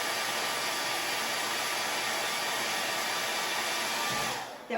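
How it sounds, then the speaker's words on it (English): A hair dryer blows steadily and loudly at close range over drying chalk paste on a tray, a constant broadband whoosh that drops away at the very end. "I'm going to speed it up just a minute with my hair dryer"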